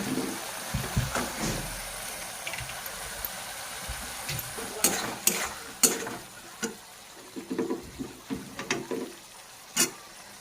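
Green peas sizzle in a wok with prawns as a spatula stirs them, giving a steady frying hiss under a run of sharp scrapes and clacks that come in irregular bursts, close by, with no one speaking.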